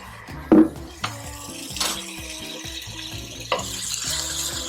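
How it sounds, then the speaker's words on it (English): Shrimp and garlic being sautéed in a pan for lemony shrimp linguine, with repeated utensil clinks and scrapes against cookware over a soft continuous sizzle, close and moderately loud. "So I'll just saute this for about a minute, watching the garlic so that it does not burn."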